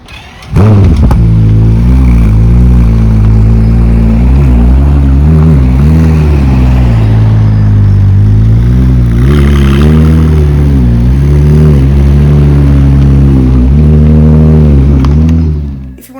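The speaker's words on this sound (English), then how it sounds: "Despite the lack of a V8, this car still sounds fantastic" A Ferrari 296 GTB engine runs loud and close for about fifteen seconds, holding a strong, buzzy tone that rises and falls through repeated revs before cutting off.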